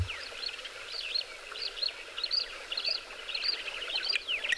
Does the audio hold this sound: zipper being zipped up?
no